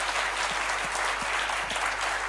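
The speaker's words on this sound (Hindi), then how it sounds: "जितनी ताकत है उतनी ताकत लगा के ताली बजाओ" A large training-session audience claps hard and continuously, a dense, even wash of applause heard from a little distance with no talking over it.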